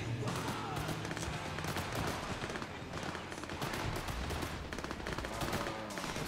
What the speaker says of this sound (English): There's a gun going on.